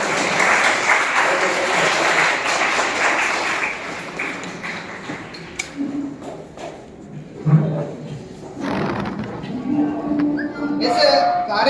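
Applause from a college audience at a Saraswati Vandana and Basant Panchami function, dense clapping in the opening seconds that thins out, with scattered claps, voices and room noise afterwards.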